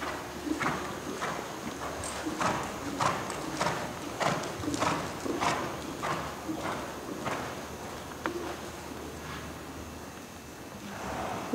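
A horse cantering over a pole during a jumping lesson, a rhythmic series of muffled hoofbeats thudding on soft ground at moderate distance, fading slightly toward the end, with no clear talk.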